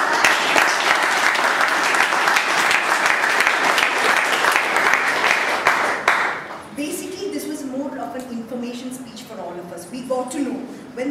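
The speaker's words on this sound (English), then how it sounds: "let's give a huge round of applause for Sanjana." An audience at a speech club meeting breaks into loud, dense applause for about six seconds, then it stops abruptly and a speaker begins talking.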